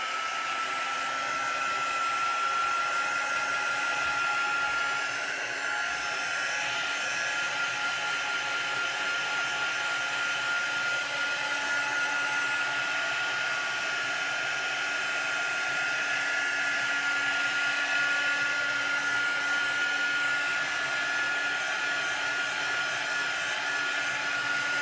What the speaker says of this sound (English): Now I'm going to quickly dry it with my heat tool